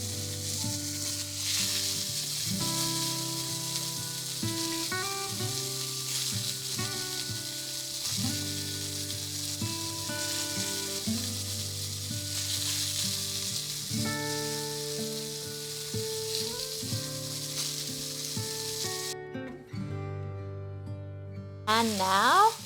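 A pan of sauce for chicken schnitzel sizzles and fries steadily and loudly as mozzarella cheese is added, with stirring and a continuous crackle running throughout.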